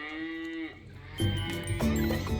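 A cow on a farm lets out a long, deep moo followed by a louder, rougher second call, close by and alone with no talk.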